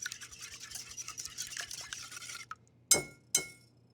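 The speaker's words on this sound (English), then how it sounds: "So I'm stirring all my liquids together." Vanilla and three eggs stirred together in a bowl with oil, a utensil scraping and clinking steadily and close, ending in two sharper clinks against the bowl.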